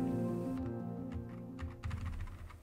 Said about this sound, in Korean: 스카이룽 GK75는 옵티컬 스위치를 사용한 광축 키보드입니다.